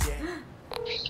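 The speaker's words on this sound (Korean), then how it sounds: "아, 잠깐만. 전화를 해보자." A phone is dialed to place a food order: after a brief breathy vocal sound, a few electronic keypad tones beep in quick succession, close and clear.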